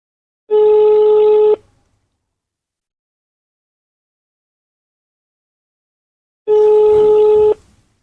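Two loud, even beeps of a phone calling out on speakerphone, each about a second long and spaced several seconds apart with silence between, no speech.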